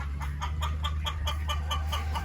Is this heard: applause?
no